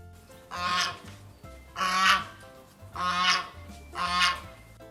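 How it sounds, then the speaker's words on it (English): A goose honks four times at a slow, even pace, each call loud, nasal and close, with brief quiet gaps between them and no voices. "Goose."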